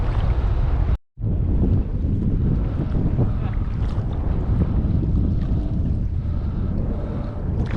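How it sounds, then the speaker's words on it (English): Strong wind buffets a fishing boat out on open water, a loud, steady roar of gusts and microphone wind noise filling the whole stretch apart from one brief dropout near the start. "Ooh, it's windy out here."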